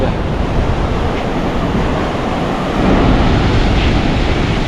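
Ocean waves wash steadily onto Karon beach in Phuket, a loud, continuous roar of surf with wind buffeting the microphone and a slight swell in the second half, and no voices.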